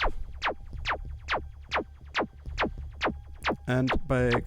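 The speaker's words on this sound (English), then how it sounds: "This is like a zap." Repeated zaps from a RALPS drum synth, about a dozen quick descending pitch sweeps fired in a steady rhythm, close and clear, ending in a couple of denser buzzy, warbling hits.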